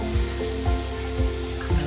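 Magur catfish fries in a spice paste in a pan, giving a steady close sizzle broken by soft stirring scrapes about every half second. No one speaks.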